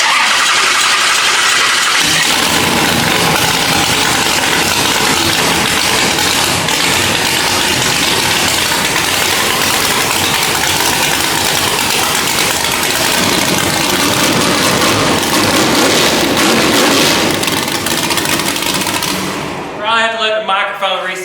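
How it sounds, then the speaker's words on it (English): A rock bouncer off-road buggy's big engine cranks and fires up, then holds a loud, roaring, high-revving idle close by for most of the clip before cutting off, with a voice speaking briefly at the end. "the first thing we're gonna do is fire it up"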